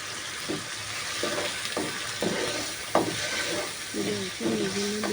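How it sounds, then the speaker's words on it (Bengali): A pan of onion, garlic and ginger paste with salt, stirred as it cooks: a steady low sizzle with repeated scraping strokes of a spoon, fairly quiet and close. "লবণ দিয়ে ভালোভাবে নাড়বো।"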